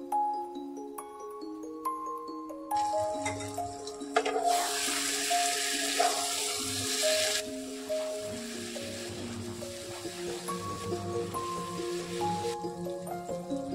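Water pours into a pan of simmering cauliflower and potato gravy in a steady rush, with sizzling beneath. Sustained tonal music plays throughout.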